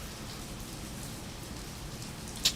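Steady rain falls outside a locksmith shop on a Saturday, a soft even hiss of drops on the surface running throughout, with one brief sharper tap near the end and no voices.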